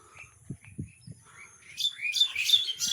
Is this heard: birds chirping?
yes